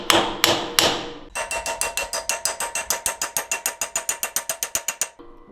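A hammer drives steel bushings into a Trail Master MB200 minibike frame: a few slow, loud metallic strikes, then a fast steady run of ringing blows that stops abruptly.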